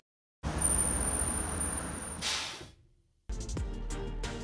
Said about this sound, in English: That was actually our fun bus putting on the brakes.